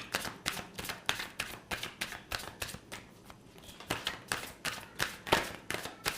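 Tarot cards riffle and snap in quick repeated shuffles up close, with brief pauses between bursts and no talking.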